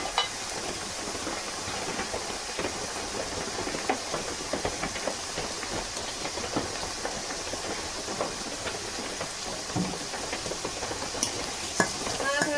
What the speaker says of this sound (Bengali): আদা টমেটো একটু কষিয়ে নেবো ভালো করে